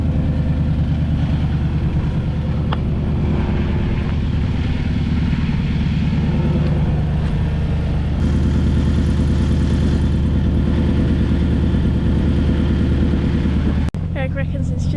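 A van's engine runs rough with a loud, throbbing idle and a possible exhaust fault, rumbling steadily and close throughout on a remote outback 4x4 track before a sharp knock near the end.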